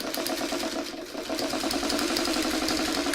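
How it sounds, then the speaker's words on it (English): A sewing machine stitches fabric in a rapid, steady mechanical chatter, close and continuous with a brief slowdown near the start before resuming at full speed. "now we're sewing on the other line"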